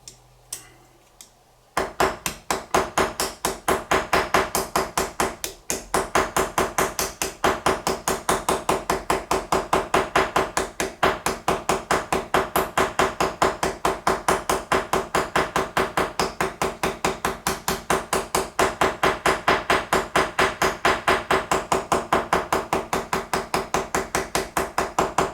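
Light, rapid, evenly spaced metallic hammer taps ring out steadily at close range while a Joseph Elliot barber's straight razor is re-scaled on the bench, continuing almost unbroken after a short quiet start.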